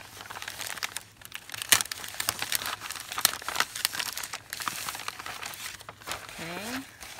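Old paper pages are pulled out of a vintage album, giving close, repeated crinkling and tearing sounds in irregular bursts, with a person speaking at times.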